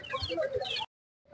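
A rooster for sale at a weekly Saturday village livestock market in Anantapur clucks loudly and close for under a second, then goes quiet before a brief further note.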